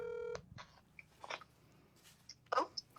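A phone sounds a short burst of steady electronic dialing tones at the start, followed by faint clicks, light handling noises and brief muffled sounds close by.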